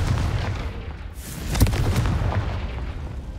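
A Confringo blasting spell cast in Hogwarts Legacy on PC bursts as a single sharp boom about midway, set against a steady, dense rumble of game ambience.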